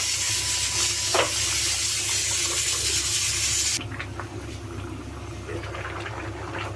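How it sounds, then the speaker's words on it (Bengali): Shukto, a Bengali mixed vegetable curry with drumsticks and bitter gourd, bubbles in a pot with a steady broadband hiss of boiling and steam that eases to a softer simmer partway through. "বাহ, খুব সুন্দর ফুটছে।"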